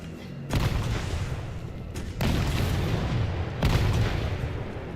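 Rocket launcher explosions in the video game Resident Evil 3: three heavy, booming blasts land in succession, each followed by a sustained rumbling roar over continuous loud background noise.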